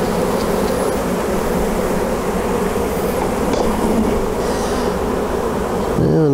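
Honeybees swarming around an open hive, a loud, dense, continuous buzzing close by throughout, with a brief louder rustle near the end and no speech.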